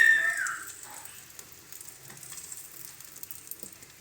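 Flat beans frying in oil in a pan give off a soft, steady hiss and faint crackle, fairly quiet and close, after a brief high tone at the start.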